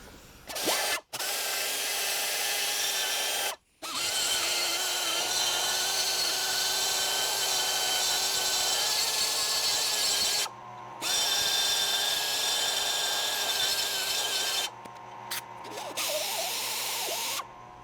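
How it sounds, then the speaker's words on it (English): A carbide burr on a power tool grinds out damaged cast aluminum with a steady high-pitched whine and rasp, close and loud, broken by a few short pauses where the tool stops and restarts. "we're basically just gonna cut it out here with this carbide burr tool"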